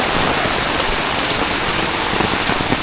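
Steady rain pours in the Konkan countryside, a dense, even hiss of drops close by with occasional heavier patters, continuous and without voices.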